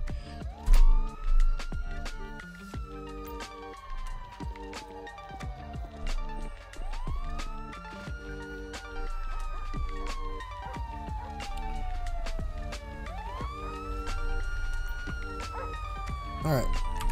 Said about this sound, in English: We'll turn off my siren.